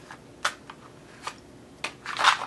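Tarot cards being shuffled at close range: a few isolated soft snaps and slaps, then a brief denser riffling burst at the end, with no talk.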